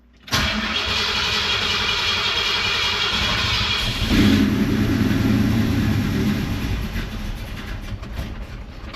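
A car engine cranking and briefly firing, a loud steady starter whir that shifts midway into a rougher, deeper engine note before fading slightly, close and alone.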